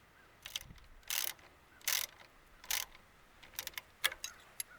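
A battery cable is tightened onto a terminal bolt on an iPower SUA12000E generator, several short ratcheting click bursts with small ticks between, quiet and close.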